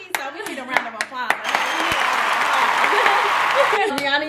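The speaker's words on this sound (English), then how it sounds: "So we need a round of applause" A crowd breaks into steady applause after a few sharp claps, filling the room for several seconds, with voices and cheering mixed in.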